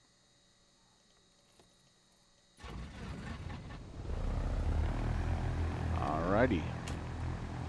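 Light propeller aircraft engine in the X-Plane flight simulator starting up after near silence, catching abruptly, then settling into a steady, droning idle that grows louder, with a brief spoken word over it.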